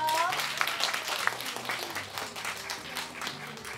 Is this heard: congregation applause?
yes